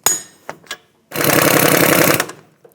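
A power tool rattles continuously for about a second while tightening the lower strut bolt on a 2001-2007 Volvo V70 XC front knuckle, preceded by a few short metallic clicks and taps.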